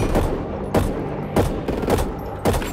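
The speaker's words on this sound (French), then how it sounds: "Un fusil d'assaut." Assault rifle fire in the zombie shooter Back 4 Blood comes as four or five loud, sharp bursts spaced about half a second apart over a steady background rumble.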